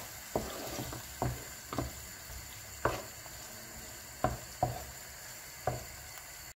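Salted eggs stirred as they fry in a pan: roughly ten distinct spatula scrapes and taps at an uneven pace over a gentle, constant sizzle, close and fairly quiet.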